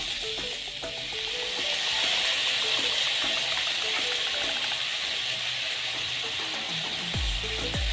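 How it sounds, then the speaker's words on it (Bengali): A spice paste for ridge gourd and prawn curry sizzles steadily in a pan, a continuous bright hiss broken by occasional scraping clicks and a low knock near the end. "এবারে এটাকে আমরা ভালোভাবে কষে নেব"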